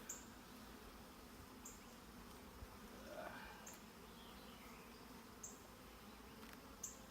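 Honey bees buzz steadily at an opened hive during a check after second brood boxes were added, a faint continuous drone with occasional brief louder passes of single bees nearby.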